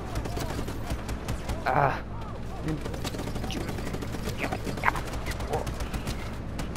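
Gunfire from the Just Cause 3 video game, including revolvers, crackles in rapid scattered shots under game noise and a player's brief exclamation, moderately loud throughout.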